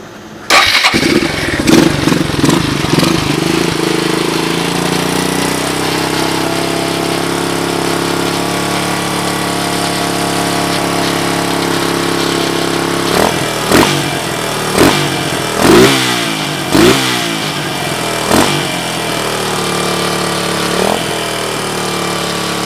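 A Suzuki DR200ES motorcycle with no air filter fires up and settles into a loud, steady idle close by. Several sharp throttle blips and revs come later, and no one speaks.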